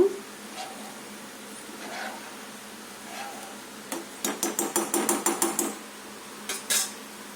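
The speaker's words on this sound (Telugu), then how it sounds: "మూత పెట్టుకుందాము" Metal clatter of a lid being set onto a cooking pan of paneer masala curry, a rapid run of about a dozen close, sharp taps followed by two more knocks a moment later.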